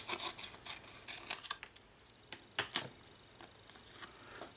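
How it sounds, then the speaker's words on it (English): Scissors snipping a small strip from a sticker for a Tamiya TT02 Porsche 911 RSR model car body, a series of short crisp cuts and rustles close up, with no talking. "So we'll just peel back a bit of the sticker, cut a small strip off"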